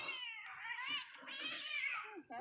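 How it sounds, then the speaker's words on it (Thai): Cats fighting outdoors on a Thai rice farm, with loud, sustained yowls and caterwauling that rise and fall continuously, plus a few sharper growling cries near the end, all close by. "แมวกัดกันสิ"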